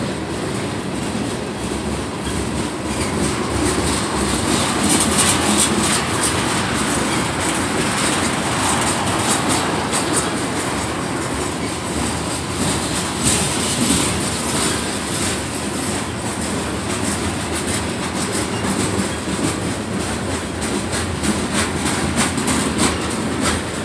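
A long Union Pacific freight train rolls steadily past at Alpine station, a continuous loud rumble of wheels and cars with rhythmic clickety-clack and occasional faint wheel squeal, sustained without pause.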